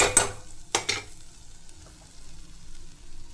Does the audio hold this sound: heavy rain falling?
no